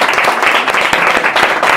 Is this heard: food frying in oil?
no